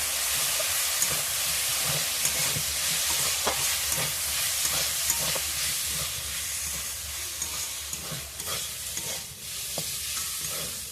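Chicken and potato pieces with red chilli powder, cumin and ginger-garlic paste frying in a pan, giving a steady dense sizzle with scattered crackles and pops throughout, close and fairly loud, with no talking.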